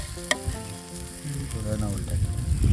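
Fish and masala cooking in a covered pan, a lively close sizzle and spatter of frying that swells louder toward the end, with a short clink at the start.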